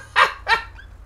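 A dog in a GTA roleplay game lets out two quick, sharp barks close by, followed by a faint trailing yip over a low background hum.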